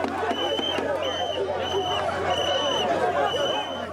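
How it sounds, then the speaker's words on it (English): An angry crowd in the streets of Port-au-Prince, Haiti, forms a dense, steady roar of many voices with shouting throughout, and a few faint whistle-like tones recur over the din. "the crowd goes from surprise to anger to fury"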